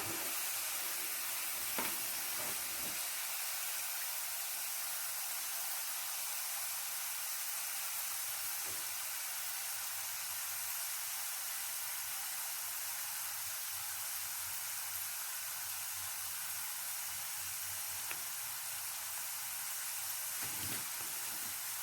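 Potato french fries sizzle steadily in hot oil, a continuous bright hiss with a few soft pops and stirring knocks, fairly quiet and even, with no one speaking.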